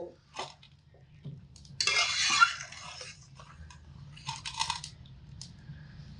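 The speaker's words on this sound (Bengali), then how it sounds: "এবার আমি এর মধ্যে দিয়ে দেব ভিজিয়ে রাখা চিড়ে নেড়ে দিয়ে এবার নাড়াচাড়া করে নেব" Soaked flattened rice (chira) is stirred in a pan for payesh, giving a few scraping and clattering bursts of spoon against metal, close and fairly quiet, with gaps between strokes.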